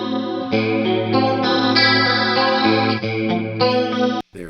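A clean electric guitar played through a PT100 amp into a Sir Cab cabinet rings out sustained chords with a shimmering chorus-like wash, loud and close, changing a few times before cutting off abruptly near the end.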